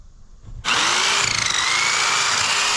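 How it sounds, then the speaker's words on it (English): A Craftsman corded electric hedge trimmer bursts into action after a quiet moment and buzzes loudly and steadily while cutting through thick bushes, close by. "This Craftsman corded hedge trimmer, I actually picked it up when I went to Lowe's to get all this other stuff."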